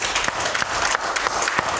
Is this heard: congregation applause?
yes